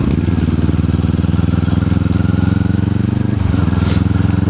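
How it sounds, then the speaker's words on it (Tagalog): Motorcycle engine with a quiet muffler running nearby, a steady low rumble with rhythmic pulsing and a slight dip toward the end, no talk. "puro tahimik halos lahat ng motor"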